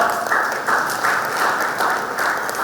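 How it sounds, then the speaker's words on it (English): Sustained applause from an audience at a CEO talk, even and continuous with a slight swell and dip, close and fairly loud, no voices standing out. "Big round of applause"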